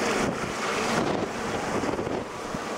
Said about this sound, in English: as you can probably hear, the wind is pretty windy